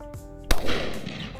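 A single sharp shotgun blast at a driven partridge and pheasant game shoot rings out loud and close, its crack trailing into an echoing outdoor decay over a steady low background, with no voices.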